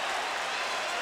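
A boxing arena crowd rises to its feet, a dense, steady roar of cheering and applause that fills the whole moment without a break.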